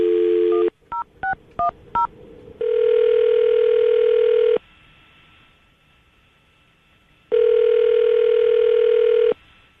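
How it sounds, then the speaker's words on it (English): A run of telephone keypad tones beeps in quick succession, followed by long steady ringback tones with silent gaps between them. "I'm going to dial the phone number right now"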